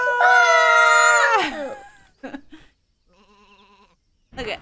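Sheep bleating in the video game Sheepy: Isle of Ewe, one long loud wavering bleat, then a couple of short sounds and a fainter distant tremulous bleat.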